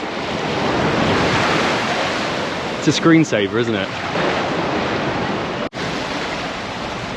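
Waves wash steadily against a granite rock beach on Mahé in the Seychelles, a loud, close surf roar with wind buffeting the microphone, broken briefly by a short spoken remark midway.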